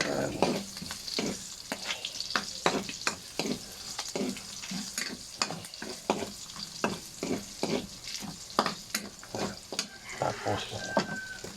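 Garlic sautéing in a pan for pinakbet, a continuous sizzle broken by rapid, repeated spatula scrapes and taps against the pan, close and moderately loud throughout.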